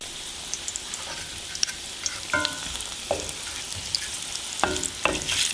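Two slices of bread frying lightly alongside garlic cloves browning in oil, a moderate continuous sizzle with scattered pops and crackles and a few brief utensil clinks.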